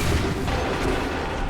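A musket volley in Assassin's Creed III bursts as a loud, dense wall of overlapping gunshots and booming noise, close and sustained for a moment, with no talk.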